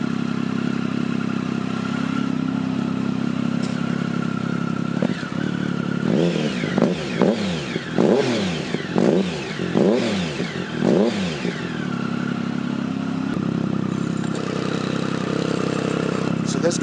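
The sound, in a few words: 2008 Triumph Tiger motorcycle engine running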